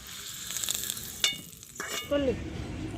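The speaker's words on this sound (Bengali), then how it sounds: "আলুগুলোকেও একদম লাল লাল করে ভেজে নেব" Potato pieces fry in oil in a pan, making a soft, close sizzle while a utensil stirs and scrapes them, with a couple of sharper clinks and scrapes standing out.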